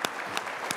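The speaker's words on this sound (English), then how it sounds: "We should give you a round of applause for that." A short burst of audience applause at a veterans workforce hiring panel, clapping steady and fairly close, with a few sharper individual claps standing out.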